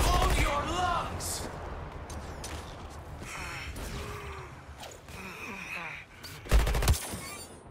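Gunfire aimed at the Flash during a fight in Suicide Squad: Kill the Justice League, busy bursts of shots and mechanical clatter mixed with game effects, grunts and a strong louder hit near the end.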